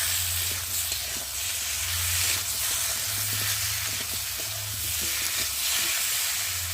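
Cumin paste, ginger paste, chopped tomato and green chilli frying in oil in a pan for tilapia curry, a steady loud sizzle with a low bubbling hiss throughout, no voices.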